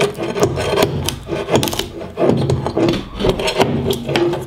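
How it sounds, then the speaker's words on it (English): A pry bar scraping and levering carpet gripper off wooden stairs during a hall and stair restoration, giving repeated close rasping scrapes and knocks in an uneven rhythm. "I'll go grab a pry bar and we'll take that off."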